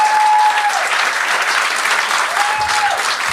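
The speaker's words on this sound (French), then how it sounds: "j'aimerais ça qu'on redonne une bonne main d'applaudissements à Yvon Deschamps, Judy Richards" Audience at a French-language talk show gives a warm round of applause, steady dense clapping throughout at close range with a few faint whistles, no voices over it.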